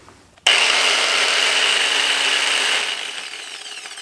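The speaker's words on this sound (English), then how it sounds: "I just fried this angle grinder. there's some like stuff in there rattling around" A burnt-out angle grinder, a hand-me-down tool, switches on abruptly and runs at a steady loud whine, loose parts rattling inside, then its pitch sags and fades a little toward the end.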